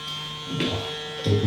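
Electric hair clippers with a close guard fitted buzz steadily while cutting hair for a textured fringe and low taper fade, a close, constant motor hum with slight swells as the blades meet hair.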